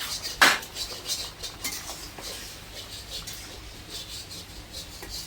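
A clay lid clinks once as it is lifted off a pot of simmering radish and sea-fish curry, followed by soft scraping and a quiet kitchen hiss.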